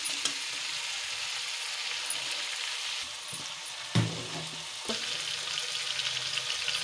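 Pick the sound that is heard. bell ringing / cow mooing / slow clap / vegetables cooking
vegetables cooking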